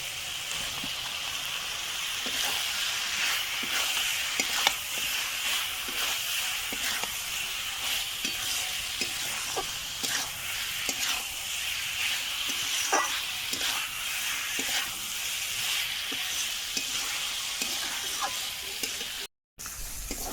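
Fried eggs and potatoes tossed into sizzling spices in a pan for a fish curry, crackling steadily for a long stretch with repeated spatula scrapes and clacks. The sound cuts out briefly near the end.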